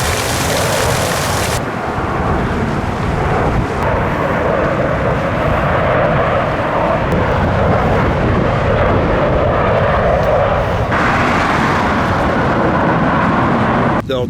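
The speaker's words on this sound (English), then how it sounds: "you will see airplanes" Airplane coming in to land near a Las Vegas cemetery, a loud continuous engine roar passing overhead and staying close and steady, with wind buffeting the microphone.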